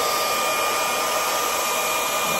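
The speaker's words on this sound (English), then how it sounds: "got the blow dryer" A hair dryer blows steadily at close range, a loud continuous whooshing hiss with no pauses and no voices.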